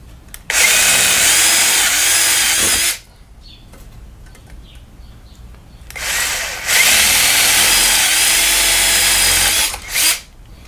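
Two long bursts of a high-pitched power drill boring holes through copper, loud and close, separated by a quieter pause with faint handling noise.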